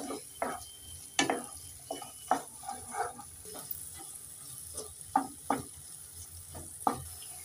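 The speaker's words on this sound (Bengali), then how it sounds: "এবার নেড়ে চেড়ে সব সবজিগুলোকে ভালো করে ভেজে নেব।" Vegetables with chopped tomato fry in a pan, a soft steady sizzle beneath repeated scraping strokes of a spatula at an uneven rhythm, close and fairly quiet.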